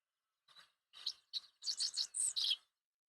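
A dickcissel calls in a short series of thin, high chirps, about six bursts in quick succession, the last ones louder and buzzier, heard alone over silence.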